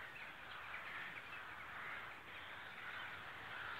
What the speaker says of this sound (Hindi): कौवे उड़ के एक जगह पे इकट्ठे होने को आ रहे हैं।